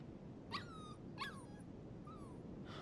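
A dog whimpers in the video game Life is Strange 2, giving three thin, high-pitched whines spaced about a second apart over a steady low background hum.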